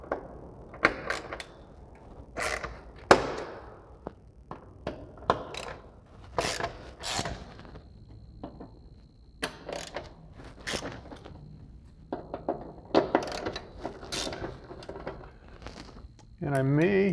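Ratchet wrench cranking torqued bolts loose on an Aston Martin DB9 shear panel under the car, with repeated clicking ratchet strokes, metallic creaks and clanks close by, and a voice speaking intermittently throughout.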